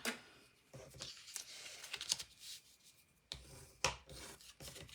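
Paper being scored with a tool to mark the fold lines of a handmade cascade card, a series of close, dry rubbing and scraping strokes with short pauses between them.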